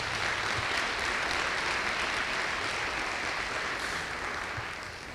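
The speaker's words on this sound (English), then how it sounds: "Can we give them all a round of applause?" A keynote audience at an NAACP parents' council kickoff meeting claps in a broad, even wash of applause that carries on steadily, then tapers off slightly at the end, with no voices on top.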